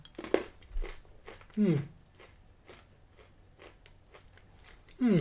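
Crunchy caramel M&Ms with a sugar shell, caramel and chocolate are bitten and chewed up close, giving sharp crunches and crackles between quieter chewing with a few voiced murmurs.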